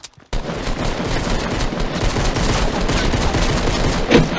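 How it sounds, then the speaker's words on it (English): Dense, continuous gunfire and explosions from a Fortnite Battle Royale squad match, loud and sustained with rapid overlapping shots after a brief silent start, no talk. "I'm getting shot from another guy."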